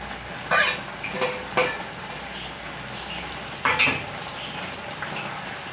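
Pepper lemon chicken cooked with yogurt and ground pepper sizzles in a pan. It gives a steady, close frying hiss broken by a few louder scraping bursts of stirring, with no voices.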